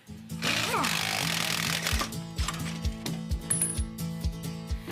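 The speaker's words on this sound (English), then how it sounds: "banging his tools on the floor so we can feel like we did something today" Metal tools bang on a garage floor during a car repair job, a fast series of sharp clanks over a steady mechanical rumble.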